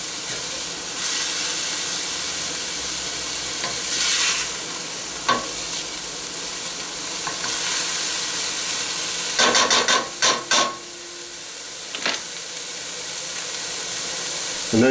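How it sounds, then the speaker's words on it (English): Thyme sweating with vegetables in a pot for red beans with andouille sausage, a steady loud sizzle and hiss with occasional stirring clatters and scrapes, close up with no talking. "When you sweat up the herbs with the vegetables"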